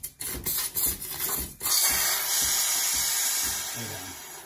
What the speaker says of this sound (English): make sure you clean your steam wand